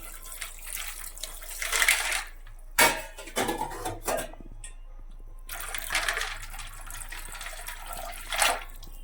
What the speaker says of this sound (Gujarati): તો ચાલો પાણી નાખી દઈએ પહેલા.